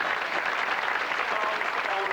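A studio audience on a Cork talk show gives pianist Frank Duggan a brief, dense, even round of applause that stays steady throughout.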